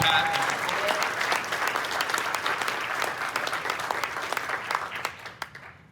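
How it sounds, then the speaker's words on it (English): Big round of audience applause for community award winners at a chamber of commerce awards ceremony, dense steady clapping from a full room that thins toward the end. "So another big round of applause, please"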